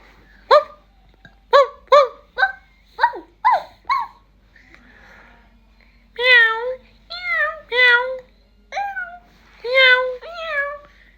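In an animal sounds game, a run of sharp barks gives way to a series of distinct, rising-and-falling cat meows, each clear and close, with short gaps between.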